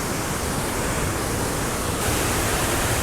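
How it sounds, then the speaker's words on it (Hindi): The Bahubali waterfall near Bhandardara, Maharashtra, rushes with a powerful, dense, unbroken roar of falling water, loud and close, with no voices. "तो हम बाहुबली वाटरफॉल के बिल्कुल पास में पहुंच गए हैं और ये वाटरफॉल है, देखो आप।"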